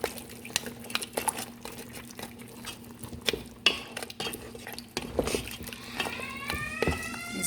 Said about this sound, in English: I'm going to add a little more so that it can cook properly, because it's hard. So I'm going to stir it.